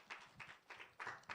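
A church congregation's applause welcoming a speaker, a few faint, uneven bursts of clapping heard at a distance in a quiet hall.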